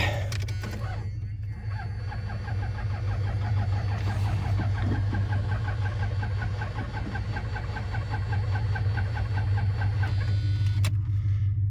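A cheap, run-down used car bought for $500 idles and runs with a steady, rough low drone and a faint rattling, ticking texture, close and continuous throughout.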